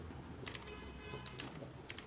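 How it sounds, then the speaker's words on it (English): Keys tapped on a computer keyboard in a few quick, light clicks, sparse and close-up against a quiet room, with no talking. "So I'm going to type"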